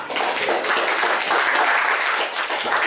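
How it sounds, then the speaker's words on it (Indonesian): Classroom applause after a group presentation, many hands clapping in a steady, dense burst throughout, close and fairly loud with no talk over it. "Tepuk tangan."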